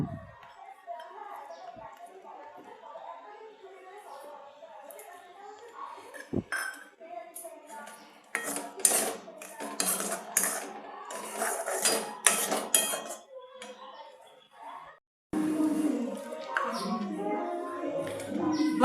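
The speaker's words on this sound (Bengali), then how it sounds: "এবার খেজুরগুলো দিয়ে দিচ্ছি।" Chopped dates go into a pan of sweet raw mango chutney with melting sugar, bringing a run of spoon clinks and metallic scrapes against the pan, loudest in the middle and again near the end, under faint background talk.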